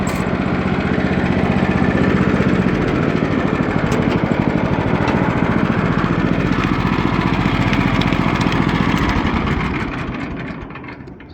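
A small engine in need of carburetor work runs steadily and loudly at close range with no talk, its low droning chug holding constant before easing off slightly at the end.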